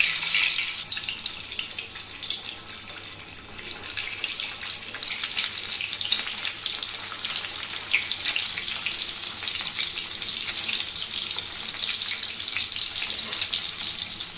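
Four pricked eggs frying in hot oil for an egg and potato curry, a steady loud hissing sizzle that runs evenly throughout with no talk.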